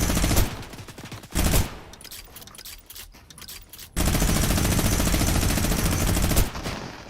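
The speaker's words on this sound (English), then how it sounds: "we just heard a heavy sniper to your left" Heavy sniper rifle shots in the Fortnite video game ring out as sharp, loud bursts with rolling gunfire echoes, a dense sustained blast dominating the middle and end, no voices over it.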